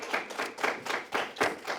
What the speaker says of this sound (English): Let's give our previous presenters a round of applause.